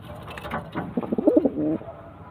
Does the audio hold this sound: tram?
no